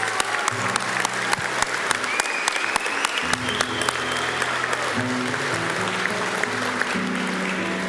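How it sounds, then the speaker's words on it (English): Sustained applause from a graduation ceremony crowd at CÉGEP Heritage College for Visual Arts graduates, dense and steady throughout with scattered sharper claps, while low tonal music plays underneath. "Let's applaud the graduates of our Visual Arts program."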